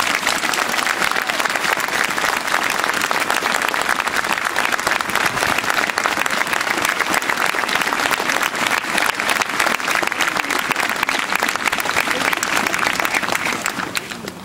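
Crowd applause at a citizens' march in Ferrières in support of Charlie, a dense and steady roar of clapping that holds for about fourteen seconds before easing off at the very end.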